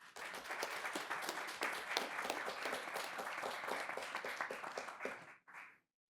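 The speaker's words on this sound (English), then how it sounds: "please join me in a round of applause for all those people." A room of panel attendees claps in a round of applause, individual claps audible and fairly close, building quickly then stopping abruptly with a short final spatter.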